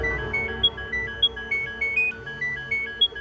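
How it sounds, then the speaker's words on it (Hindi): A phone ringtone plays a repeating electronic melody with regular beeping notes, steady and moderately loud, over a faint low background. "अननोन नंबर से फोन है।"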